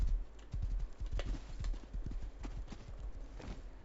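Horse hooves clip-clop steadily across ground in the survival game Rust, a quick, even rhythm of close, fairly loud hoofbeats running through the whole stretch with no voices over them.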